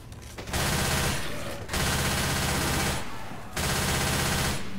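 Video game gunfire in a zombie shooter, three sustained bursts of rapid automatic fire, loud and close, separated by brief pauses.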